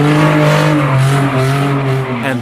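A car drifting through a sharp corner turn at high speed, tires squealing and skidding loudly over the engine's roar, with the pitch shifting as the slide continues.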